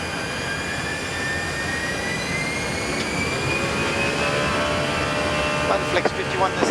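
Brussels Airlines Airbus A319 jet engines spool up during takeoff, a loud steady roar with rising whine tones heard from inside the cockpit, continuous throughout.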